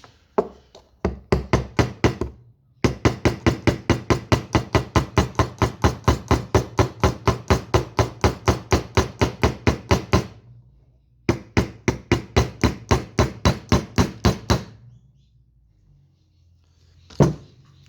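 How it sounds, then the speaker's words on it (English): Rapid, evenly spaced hammer taps strike a wooden arrow shaft as an arrowhead is driven on, in long runs of dozens of blows, close and sharp, pausing briefly between bursts before one last knock. "You may hammer it home if you wish."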